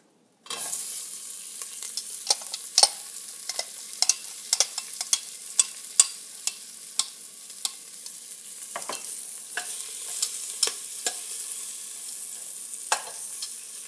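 Chopped onion sizzles and fries in the bottom of a pressure cooker pot still holding juices from browned beef, with a steady close hiss broken by frequent sharp clicks and scrapes of a utensil stirring against the metal.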